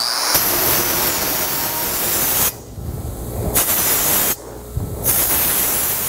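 An angle grinder smooths a weld on a metal octagonal end table, a loud hissing roar that runs in steady bursts with two short pauses.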